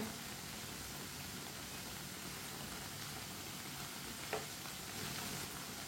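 Potato snack frying in a pan gives a steady, even sizzle with a broad hiss that holds constant throughout, broken only by one brief small click near the end; no voices.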